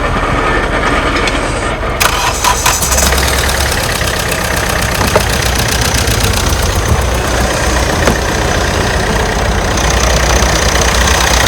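A car engine cranks over and catches, then settles into a steady, loud idle with a rough knocking rhythm running throughout.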